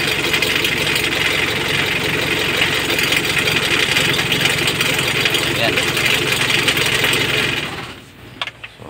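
A Mitsubishi L300 diesel engine with a hard-starting fault runs at a steady, loud, clattering idle up close, then cuts out near the end, leaving a few faint knocks.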